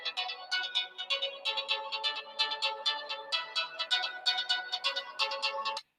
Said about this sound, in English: Oh, and my phone's ringing.